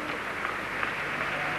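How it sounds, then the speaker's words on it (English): Stadium crowd at the 1979 Ivo Van Damme Memorial athletics meeting whistling and booing after Steve Ovett's 1500m race, a dense, steady roar of many voices with shrill whistles running through it, loud and continuous throughout. "The word's gone round, they're whistling and booing"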